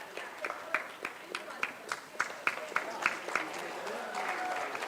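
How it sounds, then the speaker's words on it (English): An audience at a pharmacology association conference claps together in a burst of rhythmic applause. The hand claps are close and distinct at first and then blur into a steadier roar of clapping. "we must have a huge round of applause for the audience"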